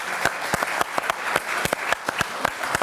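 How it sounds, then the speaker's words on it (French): Applause from a studio audience on a French television show, with distinct sharp claps landing in an uneven rhythm over a softer bed of clapping hands, close and moderately loud. "Sylvain, on peut l'applaudir."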